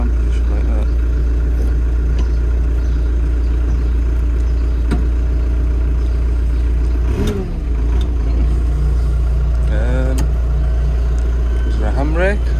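A car engine runs with a steady low drone throughout, with a brief dip partway through, while people talk over it.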